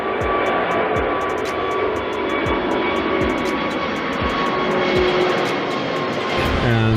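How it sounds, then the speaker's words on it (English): An Airbus A380's jet engines roar loud and steady at takeoff on the final departure from Hamburg, a powerful continuous rumble with a faint rhythmic ticking running through it. "We hear the engine roaring."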